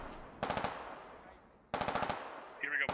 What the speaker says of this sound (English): Some very long-range shots here